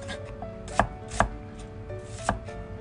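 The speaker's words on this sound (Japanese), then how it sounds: "玉ねぎも薄切りです" A knife thinly slices onions on a cutting board, giving a few crisp, distinct chopping knocks at an unhurried pace in a quiet kitchen, close up.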